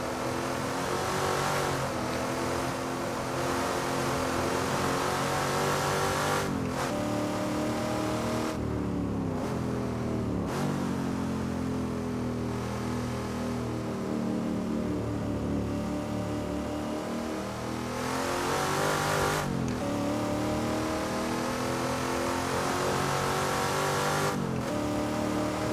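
A racing car's engine revs and shifts continuously in Assetto Corsa's GT Legends mod, its loud droning note climbing and dropping with short breaks at the gear changes, with no talk over it.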